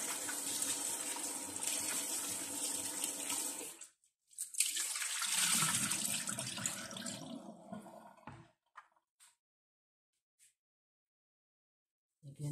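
Raw chicken pieces washed under a running kitchen tap, with a steady broadband rush of water for about four seconds, a short pause, then another stretch of flowing and splashing that trails off into scattered drips and near silence.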